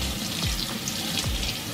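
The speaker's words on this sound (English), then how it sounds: "Let's rinse it off and see what we got here." Tap water runs steadily while a burnt pot is rinsed under it, a continuous close splashing wash with no talk.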